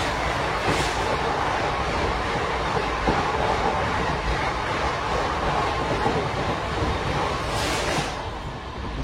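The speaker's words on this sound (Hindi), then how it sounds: "Chikmagalur Yesvantpur passenger crossing eight अम्मासंदा" The Chikmagalur–Yesvantpur passenger train passing at a crossing at Ammasandra makes a loud, steady rush of wheels and carriages that stays dense throughout, then eases slightly at the end.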